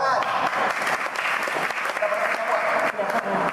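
A crowd at an exclusive business talk show applauds loudly and continuously, dense close clapping filling the whole stretch with a few voices mixed in underneath.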